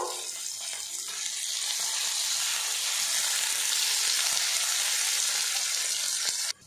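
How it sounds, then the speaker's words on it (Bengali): Onion and tomato fry in a pan with a dense, even sizzle that swells slightly, then cuts off abruptly at the end. "পেঁয়াজটা একটু লাল লাল করে ভাজা ভাজা করে নেব।"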